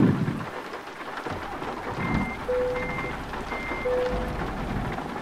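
A truck reverses in Euro Truck Simulator 2 with its reversing alarm beeping in evenly spaced tones over engine rumble, steady rain and wipers, with no voices.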